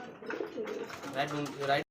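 Pigeons at a pigeon farm, including racer and Bombay breeds, coo in a run of soft throaty calls close by, with overlapping birds and a short gap before a louder final coo.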